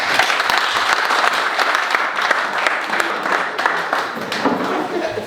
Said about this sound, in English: I'd like you to give yourselves a round of applause.